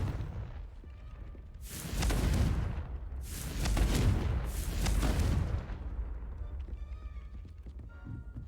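Confringo blasting spell cast in the Hogwarts Legacy video game, heard as three loud, booming explosive blasts in quick succession over a low rumbling backdrop.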